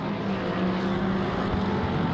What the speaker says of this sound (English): so we're just now hearing the beautiful racing cars.